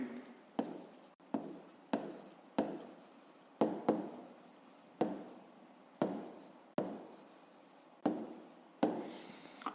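A pen writes by hand in a notebook, solving a fifth-grade math exercise, in quiet repeated strokes, each a sharp scratch that trails off, about a dozen in a row, with no talk.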